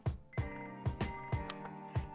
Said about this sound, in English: There's our timer, 5-minute timer going off now.